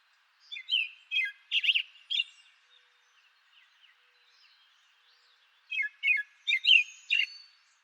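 American robin song: bursts of clear caroling phrases in two groups separated by a quiet gap, close and bright against a silent background.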